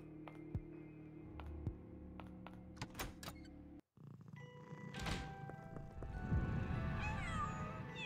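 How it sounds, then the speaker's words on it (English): Cats meow repeatedly in the video game Pocket Mirror, their cries mixed with thunks, a purring hum and game music, loud and close, with one brief dropout partway through. "Cats!"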